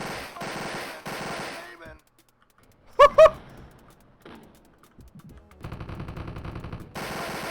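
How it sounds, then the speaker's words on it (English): Chain gun from the Coffee Break mod of Wolfenstein 3D firing in short loud bursts that alternate with silent gaps, a couple of sharp shots in the middle and a longer rattling volley near the end. "this is the chain gun, basically"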